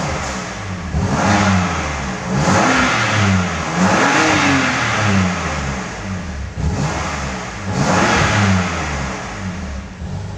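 A BMW M2 CS engine is revved in short repeated blips, each rise in pitch dropping back to a rumbling idle, loud and close with no talking.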